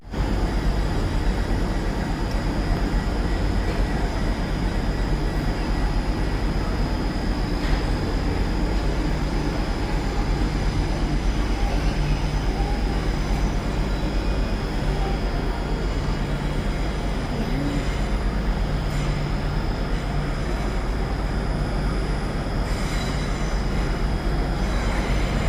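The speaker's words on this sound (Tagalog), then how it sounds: "That's my train, mga kaibigan. It's coming now." A train pulls in at a railway station platform, a continuous loud rumble and rail noise filling the whole stretch with little variation, no talk over it.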